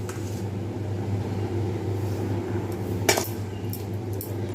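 A spoon stirs chili chicken marinade in a bowl, giving faint scrapes and a few light clinks, with one sharper clink near the end, over a steady low kitchen hum.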